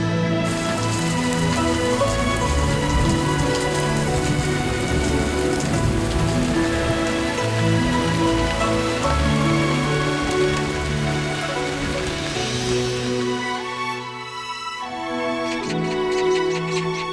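Steady rain falls around a palace, a continuous patter that runs the whole length beneath loud, sustained music, briefly dipping near the end.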